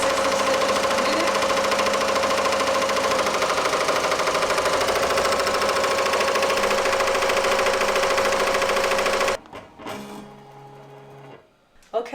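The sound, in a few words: 15-needle embroidery machine stitching at 860 stitches per minute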